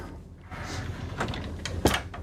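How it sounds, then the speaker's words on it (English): An RV pocket door in a 2023 Newmar Essex 4595 slides along its track with soft rumbling, then a sharp click near the end as it locks into place. "Of course, we're going to have our pocket door for privacy."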